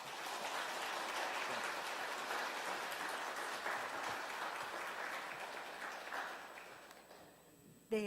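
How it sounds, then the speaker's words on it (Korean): A church congregation applauds to welcome a new preacher, a steady wash of many hands clapping that holds for about seven seconds before fading, with a louder sound at the very end. "큰 박수로 환영의 인사 같이 하겠습니다"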